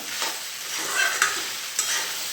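Sago wafers fry in hot oil while being stirred, giving a dense, continuous close-up sizzle broken by a few brief scraping stirs, with no voices.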